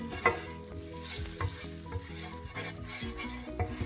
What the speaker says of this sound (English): I just added just a little butter and I'm just kind of scraping it around just a bit, just to slightly coat the base